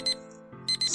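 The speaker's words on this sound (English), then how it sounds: "This alarm I set so I can sleep through it." An electronic alarm clock beeps in a video game, bright repeated bursts pulsing in a quick rhythm over a steady tone, loud and close with no voices.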